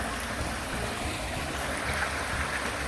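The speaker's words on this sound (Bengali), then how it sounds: "যে ঝর্নার মতো পানি পড়ছে এখান দিয়ে" Floodwater pours like a waterfall beside a culvert bridge after heavy overnight rain, a dense, constant rushing roar close by.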